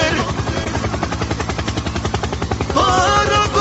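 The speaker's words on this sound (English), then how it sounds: "Helicopter." A helicopter overhead gives a steady rapid rotor thudding, loud and continuous, swelling louder near the end, with no one talking over it.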